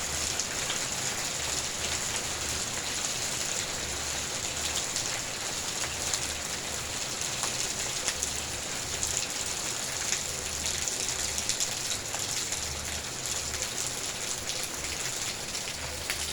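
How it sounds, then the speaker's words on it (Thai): Steady morning rainfall, a dense even hiss of drops striking surfaces with a low rumble beneath, continuous and fairly quiet with no voices. "ถ่ายบรรยากาศฝนตกหลัดเช้าให้พี่น้องๆได้เบิ่ง"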